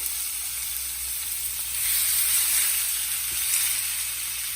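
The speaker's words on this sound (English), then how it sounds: "Ooh, listen to that sizzle." Steady, bright sizzling of chicken frying in a hot pan, a continuous crackling hiss that swells slightly midway, with no talking.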